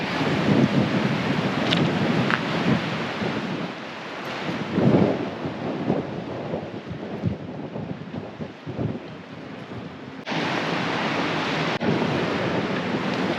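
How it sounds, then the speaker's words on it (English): Steady wind gusting and rumbling surf beside open water where kite surfers ride, a dense, continuous roar with wind buffeting the microphone and swells rising and falling throughout. "It's windy outside. We're off of a body of water."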